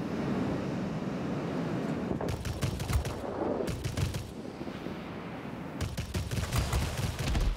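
Rapid machine gun bursts from a La-160 jet fighter in World of Warplanes, three clusters of fast crackling shots rising over a steady roaring engine and wind drone.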